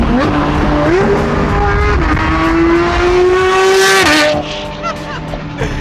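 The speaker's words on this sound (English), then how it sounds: "it already has a freaking straight piped exhaust" A GT3 RS sports car engine revs hard through a straight-piped exhaust with a loud, raspy note, pitch climbing and holding, then dropping off as the throttle eases.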